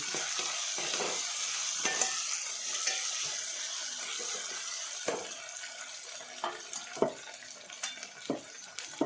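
Onion, garlic, ginger and tomato fry with mustard seeds in oil, a soft continuous sizzle broken by occasional stirring scrapes and taps, with no voices.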